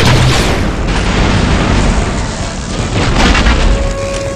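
Heavy bombardment explosions in the video game Star Wars Republic Commando, a loud continuous rumble of booms with bursts at the start and again near the end, no voices.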